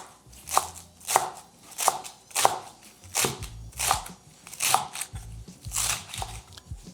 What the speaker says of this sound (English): I'm just going to give a rough chop.